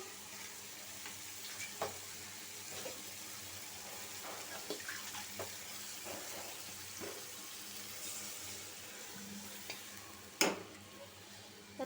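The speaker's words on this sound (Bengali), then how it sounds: "এখন একটু পানি দিয়ে দিই" A little water poured into a pan of frying onions and chapa dried fish, giving a close, continuous hiss and sizzle with scattered clinks and stirring scrapes, one sharp knock near the end.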